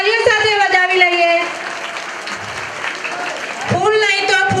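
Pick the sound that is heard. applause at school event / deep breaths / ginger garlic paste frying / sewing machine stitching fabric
applause at school event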